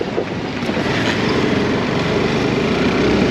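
A motorcycle engine drones steadily and loudly throughout, rumbling like a tractor, rough and close, with some wind buffeting over it.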